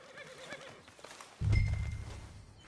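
A horse in Red Dead Redemption 2 lets out a clear whinny, then snorts and stamps heavily with a burst of low, rumbling hoof movement nearby, with no speech.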